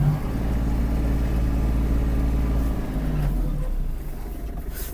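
A Kubota GL-260 mini tractor drives back to the yard, its steady mid-pitched engine droning close and loud, then easing off near the end.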